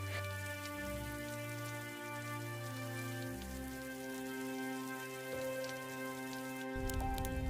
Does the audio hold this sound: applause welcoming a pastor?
no